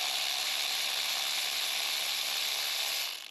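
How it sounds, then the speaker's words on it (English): An electric ratchet spins steadily for about three seconds, removing a glow plug from a Mercedes Sprinter 2.7 diesel engine, a continuous close whirring hiss that stops abruptly at the end, with no talk. "I'll just finish it off with my electric ratchet."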